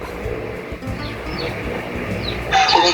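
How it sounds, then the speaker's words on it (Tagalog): Several roosters crow at a Philippine home, with fowl calls rising near and far over a busy background, and a louder crow near the end. "dyan sa maraming tumitilaok na manok"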